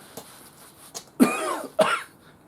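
A few separate coughs from one person, two harsh bursts standing out after fainter earlier hacks, close and clear with no talking, in a workshop setting.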